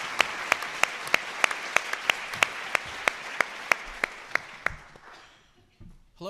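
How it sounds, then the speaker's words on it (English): Applause at a clean energy summit welcomes a speaker: evenly spaced, crisp claps stand out close by over a softer bed of crowd clapping, then everything fades out over the last couple of seconds. "please join me in giving a warm round of applause to William Anderson"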